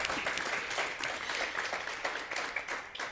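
An audience at a women in sport conference gives a round of applause, with steady, moderately distant clapping from many hands running throughout without talk.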